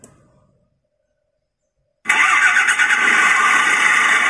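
A miniature generator fitted with a sound-effect unit kicks on after a brief click and silence, then runs as a steady, loud, high buzzing hum to the end.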